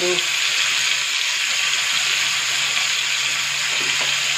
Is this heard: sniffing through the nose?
no